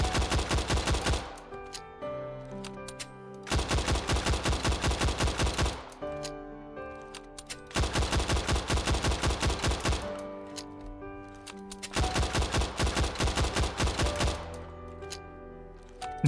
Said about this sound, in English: Oh, I can keep shooting.